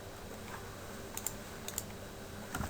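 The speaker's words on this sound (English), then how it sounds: "I'm going to use Control and H on the keyboard to hide the guides" Computer keyboard shortcut keys pressed, a few faint, crisp clicks landing in quick pairs and a final cluster, set against a quiet room hiss with no voices.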